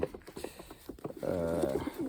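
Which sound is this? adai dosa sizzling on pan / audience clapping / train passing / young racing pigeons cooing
young racing pigeons cooing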